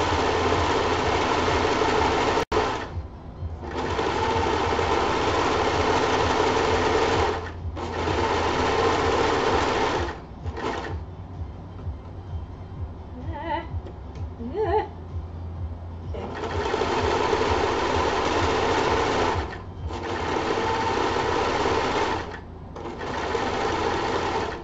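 A three-thread serger stitching fabric for a skirt, running in steady whirring bursts of a few seconds each with short pauses between, close and fairly loud.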